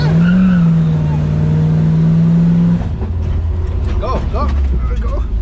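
A racing simulator at a resort plays a continuous car engine drone with rising and falling tones, shifting into tire skids and squeals partway through, loud and up close.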